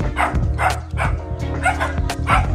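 Dogs bark repeatedly in the Philippine countryside of Pangasinan province, a steady run of close, loud yipping barks and bow-wows with one or two animals overlapping in a busy rural setting.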